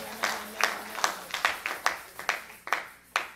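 A church congregation claps in a steady, roughly even rhythm of sharp claps, fairly close and moderately loud, with a faint sustained tone underneath.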